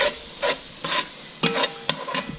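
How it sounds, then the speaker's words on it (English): Meat sautés in a pan while a utensil scrapes and stirs it in several distinct strokes, each a brief rasping scrape over a quiet sizzle, heard up close. "I just sauteed that meat a little bit longer."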